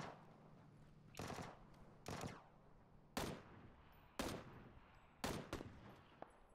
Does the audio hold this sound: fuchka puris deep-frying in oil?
no